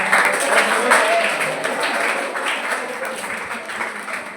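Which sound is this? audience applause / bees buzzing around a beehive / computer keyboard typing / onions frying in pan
audience applause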